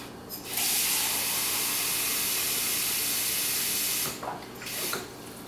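Water from a measuring cup being poured into a container while making garlic oil, one steady, hissing close pour lasting several seconds, followed by a few brief splashes and no talk.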